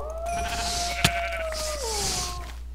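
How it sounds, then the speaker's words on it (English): A single sheep bleat from a video game, a drawn-out wavering cry lasting a couple of seconds, clear and close over a low steady hum with one brief click partway through. "Yes, sheep!"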